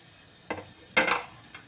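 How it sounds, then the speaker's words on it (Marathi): Broken wheat is tipped into hot ghee in a pan and stirred, giving two quick scraping clinks of a spoon against metal with a faint sizzle, the second one louder. "आता हा दलिया आपण याच्यामध्ये घालणार आहोत"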